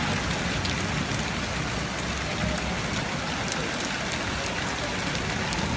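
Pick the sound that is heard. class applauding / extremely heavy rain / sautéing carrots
extremely heavy rain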